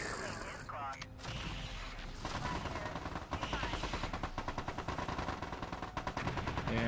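Mechs fire weapons in the video game Mech Commander 2, rapid rhythmic bursts of gunfire building into a sustained volley, with someone talking over the start.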